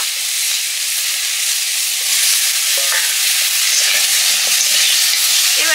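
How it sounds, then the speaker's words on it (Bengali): Curry stirred in a frying pan, a loud, steady sizzle and hiss with scraping stir strokes now and then, close up and with no voices. "অল্প একটু নেড়ে নিচ্ছি,"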